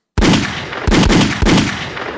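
Three loud gunshot sound effects, each a sharp blast with a ringing tail, fire in quick succession as a podcast sound drop.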